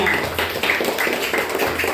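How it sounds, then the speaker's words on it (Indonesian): A classroom audience of students claps for Gania, a group leader during a school teaching-practice lesson, with dense, steady applause filling the whole span and some faint voices mixed in. "silakan dulu tepuk tangan untuk Gania"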